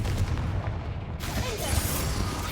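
Confringo fire spell blasts go off in Hogwarts Legacy, loud booming bursts with a sharp crack and rolling low rumble, one hitting around the middle and more rumbling over the dense game battle noise.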